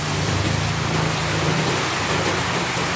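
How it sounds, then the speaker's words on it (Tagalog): Heavy rain pours down in a dense, steady hiss that stays loud and unbroken throughout, with a low rumble underneath. "malakas ang ulan."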